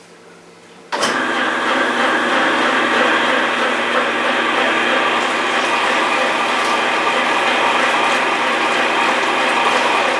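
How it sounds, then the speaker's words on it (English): Electric meat grinder fitted with a large blade churns Schinkenwurst sausage meat, a steady loud mechanical whir with gear-like rattling that starts abruptly after a second of quiet and runs on continuously. "now I push it through the meat grinder one more time with a really big blade in front"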